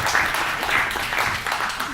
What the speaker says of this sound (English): Can we give a round of applause to Revd,